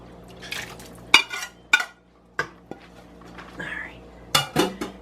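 Venison is tipped back into a stir-fry pan and stirred, giving several sharp metal clanks and scrapes of utensil against pan, spaced irregularly, with liquid sloshing in between and faint talk in the background.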